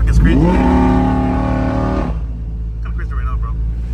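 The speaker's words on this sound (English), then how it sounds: "The traffic is crazy." A car revs hard at a weekend car rally, its engine note climbing and holding steady for about two seconds before cutting off, then low road rumble and faint traffic carry on beneath.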